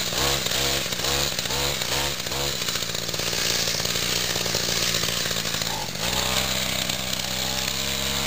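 A bicycle fitted with a weedeater engine screams at full throttle, loud and close, its buzzy two-stroke whine pulsing at first then holding a steady high rev, briefly dipping and rising again.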